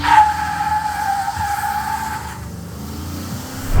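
A supercharged Chevrolet Silverado pickup truck launching hard from a standstill, with a loud tire squeal as the tires lose traction, then the engine roar carrying on after the squeal stops.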